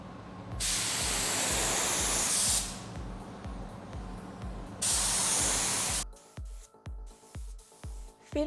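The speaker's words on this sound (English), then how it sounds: "In here I see that the spray area is too big for epoxy prime and too much coming out." A spray gun sprays epoxy primer in two long, loud, close hissing bursts over a rhythmic mechanical thumping from a compressor, which carries on alone after the spraying stops.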